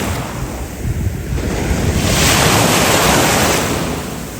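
Open-sea waves crash against rocky shore on the coast near Alanya, Turkey, a loud, continuous roaring wash of surf and spray that swells toward the middle, with heavy wind rumbling on the microphone.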